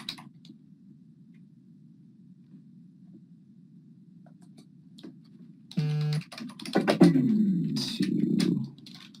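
Rapid keyboard typing clicks in irregular bursts over a low steady hum, growing louder and busier toward the end.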